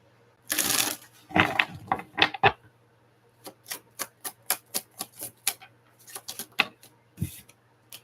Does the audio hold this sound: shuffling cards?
yes